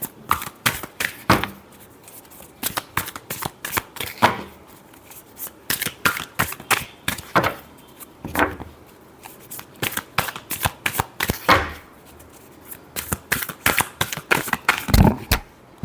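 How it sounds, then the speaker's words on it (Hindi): A deck of tarot cards being shuffled by hand, near and clear: repeated riffling and flicking bursts with short pauses between handfuls, carrying on steadily with no talk. "बहुत सारे कार्ड्स हैं। Last shuffle."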